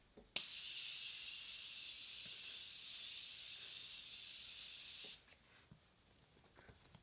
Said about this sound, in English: now lastly, I'm gonna spray this Morphe Contour Setting Spray.